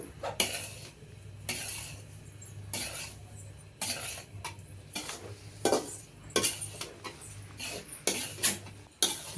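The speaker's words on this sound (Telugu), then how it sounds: "బాగా కలుపుకోవాలండి చూడండి ఈ విధంగా కలుపుతూనే ఉన్నాను" Roasted semolina for beetroot rava laddu being stirred in a metal pan: repeated scraping, clinking strokes against the pan at an uneven rhythm, with a faint background hum and no talk.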